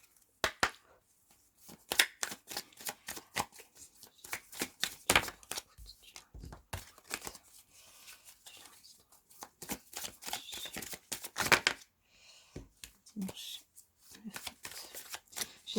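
A deck of oracle cards is shuffled for a weekly card reading, with close, crisp riffling and slapping bursts repeating in uneven runs through the clip, separated by short pauses.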